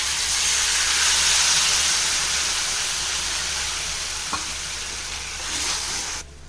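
Water poured into a hot pan of chutney sends up a loud, steady hissing sizzle with steam, fading slightly over several seconds, with a brief clink before cutting off at the end.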